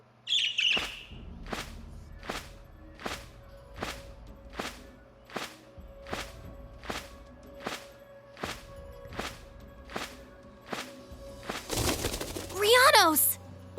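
A bird squawks in the video game Trails of Cold Steel II, with a quick run of chirpy calls near the end, after a long string of evenly spaced sharp clicks. The ticking is steady over a low background, and no one speaks.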